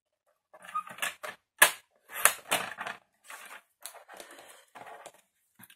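Card stock is cut for a box with a lidded top, a series of short crisp snips and crunches in an irregular rhythm separated by near silence, close and fairly loud.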